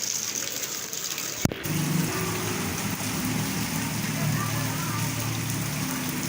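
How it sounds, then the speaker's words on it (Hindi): Heavy rain pours down with water running through flooded streets, a steady rushing wash after a brief sharp knock, continuing evenly throughout. "इतनी तेज़ बारिश"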